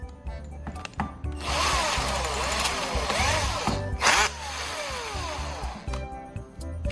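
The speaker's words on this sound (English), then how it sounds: "Use the drill at low speed to rub the tip against the sponge." An electric drill whirs steadily at close range, spinning a soldering iron tip that scrapes against a sponge, its motor pitch rising and falling, with a brief louder burst midway.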